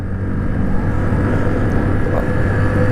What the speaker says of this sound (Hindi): और बाइक तीसरे गियर में चलना शुरू हो गई इधर से।